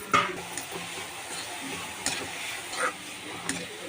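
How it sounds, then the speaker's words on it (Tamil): Masala pasta being stirred in a pan, with soft scraping strokes and a light sizzle, punctuated by a few sharper clicks of the spoon against the pan at irregular intervals. "நல்லா சேர்த்து மிக்ஸ் பண்ணிக்கோங்க."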